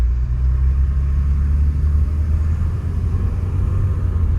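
A 1987 Mercedes 300D idles with a deep, steady diesel rumble, then pulls away from a stop up a hill, the close engine drone holding loud and even throughout with no talk.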